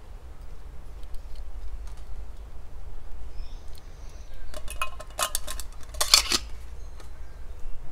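A small camp stove, such as an MSR Pocket Rocket 2 or Jetboil Minimo, rattles loosely inside a metal cooking pot, with a few scattered clinks building to a brief burst of metallic jangling near the end.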